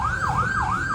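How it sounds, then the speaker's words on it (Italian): A police car siren wails in a steady rising and falling sweep, loud and continuous over low road rumble, with no voices. "è la macchina con la sirena della polizia"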